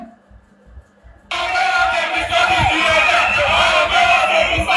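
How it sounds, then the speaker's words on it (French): Angry crowd protesting loudly outside a hospital in Marcory, a quieter start giving way to a sustained roar of many shouting voices, close and dense. "une foule en colère manifeste bruyamment"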